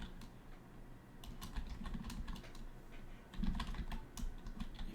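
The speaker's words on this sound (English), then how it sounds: "Sorry, typing." Typing on a computer keyboard, quick irregular key clicks in close, fairly faint bursts with a brief heavier flurry midway.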